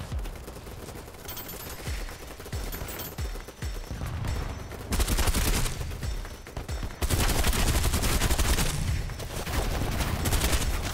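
Dense, loud automatic gunfire rattles almost continuously through a BattleBit firefight, swelling into heavier bursts partway through, with overlapping shots near and farther off.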